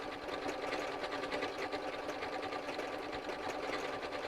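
A sewing machine stitches simple loops with a steady, fast mechanical whir and rhythmic needle chatter, close and continuous throughout with no talking.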